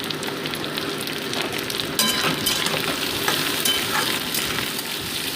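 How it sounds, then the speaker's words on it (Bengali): Onion and green chili frying in a pan for a Bengali fish-and-vegetable dish, giving a steady, close sizzle with light stirring scrapes throughout, no voices. "পেঁয়াজ লঙ্কাটাকেও কিন্তু আমি 2 মিনিট ভেজে নিচ্ছি"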